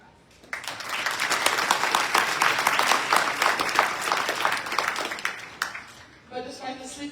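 Audience applause at a college spring graduation ceremony, a sustained burst of many hands clapping that swells then fades after several seconds before a voice resumes.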